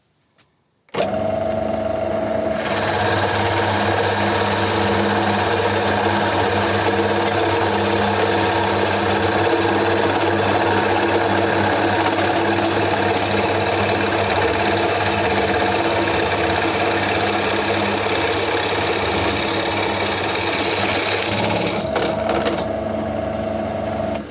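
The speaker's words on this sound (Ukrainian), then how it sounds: "Да, важко сверлить таку породу." A Chinese Forstner bit bores into hard wood, a loud, steady, close drone of the running drill that holds almost unchanged for over twenty seconds before cutting off, with no talking.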